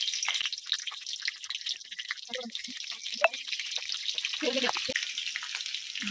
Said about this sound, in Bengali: কড়াই সরষের তেল দিয়ে দিচ্ছি। খিচুড়ির মশলাটা কষিয়ে নেব।